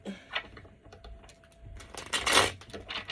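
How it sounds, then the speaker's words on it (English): A deck of tarot cards is shuffled by hand up close, with quick riffling flutters and soft card clicks in irregular bursts, the busiest flurry near the end. "Then I'm going to shuffle this deck."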